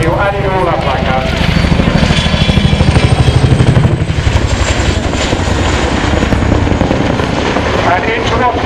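An RAF Chinook helicopter doing a quick stop manoeuvre at the Waddington 2012 airshow gives a loud, steady rotor roar with rhythmic blade thumping throughout, near and continuous.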